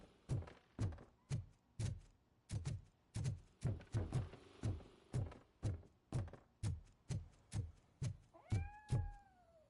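Cat meowing in RoboCop: Rogue City, a long run of short, evenly spaced meows and soft taps, close and moderately quiet, ending with a few drawn-out tonal cries.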